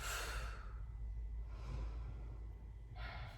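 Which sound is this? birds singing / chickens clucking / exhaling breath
exhaling breath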